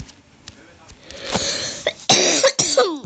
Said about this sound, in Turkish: öksürük yüzünden pardon